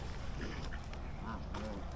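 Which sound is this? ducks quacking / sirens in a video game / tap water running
ducks quacking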